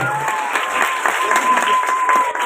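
Audience at a live stage show in Nagaon claps steadily as a guest is welcomed, a dense even wash of applause with a thin tone held above it.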